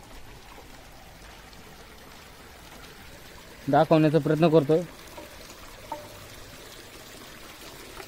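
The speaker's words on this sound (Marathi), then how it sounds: "इथनं गोमुखातून पाणी येतंय" Water runs steadily from a cow-mouth spout at a temple along the Narmada, a constant close rush beneath everything, with someone talking briefly partway through.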